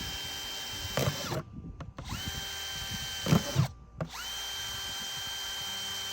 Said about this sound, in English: Just drill them periodically over the bucket.